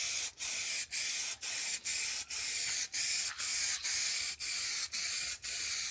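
Spray gun laying thick coats of paint on a Mercedes W124 hood, steady close hissing bursts broken by short regular pauses roughly every half second, no voices.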